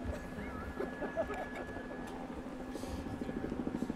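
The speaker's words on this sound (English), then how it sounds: "I want to apologize for my helicopter." A steady rotor chop of a helicopter at an outdoor bridge ribbon-cutting ceremony, with rhythmic beating that grows more distinct toward the end, over a constant engine hum.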